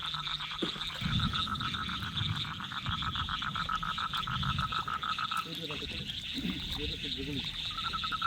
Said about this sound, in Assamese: সেইটো বোলে চুক ভেকুলী হয়।